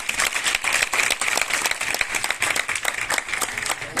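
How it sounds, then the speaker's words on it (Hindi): Sustained applause from an audience at a silver jubilee and achievements celebration, dense steady clapping filling the room for the whole stretch without a break. "आइए जोरदार तालियां खुदावन के"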